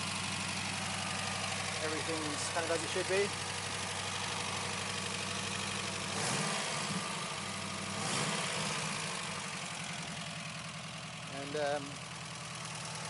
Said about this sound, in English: So the engine runs nice and sweet, really smooth.